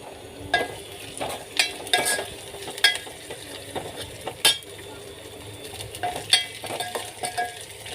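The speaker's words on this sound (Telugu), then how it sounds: "ఈ పచ్చి వాసన పోయేంతవరకు వేయించుకుందాం." Tomato curry ingredients fry and get stirred in a pan, a steady close sizzle broken by repeated scraping strokes of a spoon against the pan, with no talking.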